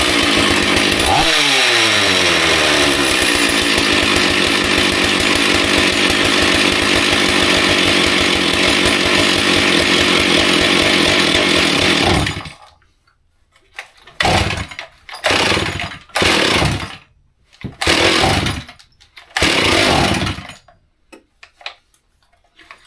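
A damaged Stihl MS461 chainsaw fitted with aftermarket parts runs at high idle with a loud, steady buzzing drone, then cuts out and fires back up in several short bursts.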